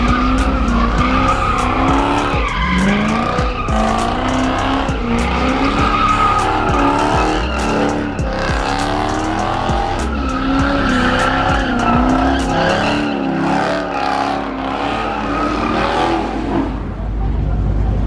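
A car doing a drifting practice run at a car meet, with long loud tire squeals and skidding over a revving engine, continuous and close, voices faintly underneath.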